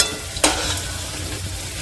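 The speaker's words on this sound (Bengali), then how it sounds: "তেলের ওপরে পনিরগুলো দিয়ে দিয়েছি" Paneer pieces frying in oil in a wok make a loud, constant sizzle, broken by a couple of sharp clinks or stirring knocks, with no talk.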